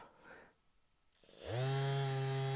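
After a quiet moment, a Makita 18V DBO380Z cordless finishing sander starts on its highest speed and settles into a loud, steady high-pitched whine.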